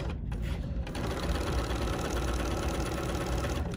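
A BERNINA sewing machine with a non-stick foot stitches through vinyl in a continuous, fairly loud mechanical hum that starts right away and holds steady, with no one talking.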